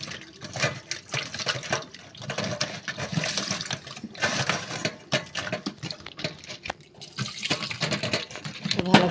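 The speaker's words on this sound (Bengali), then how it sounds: "নুন দিয়ে মাখিয়ে গরম জল দিয়ে ধুয়ে নেব।" Hot water splashes and trickles as salted fish is washed by hand in a kitchen, in an uneven, rustling stream of pouring and rubbing.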